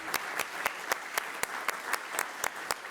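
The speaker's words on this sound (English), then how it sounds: "Please join us in a round of applause" Steady applause from the audience at a school board meeting, with many hands clapping continuously and sharp individual claps standing out throughout.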